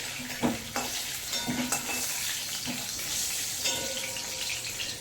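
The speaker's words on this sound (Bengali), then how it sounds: "এবার আমি আলুটা কত ভাজা হলো দেখে নিই" Potatoes fry in oil and are stirred, producing a dense sizzle with a few scraping strokes and clunks of the spatula against the pan.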